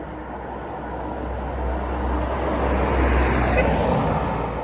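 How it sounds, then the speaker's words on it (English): A truck rumbles past on a nearby road, a steady broadband roar with deep low-end rumble that swells toward the middle and stays loud throughout, with no talking. "A truck."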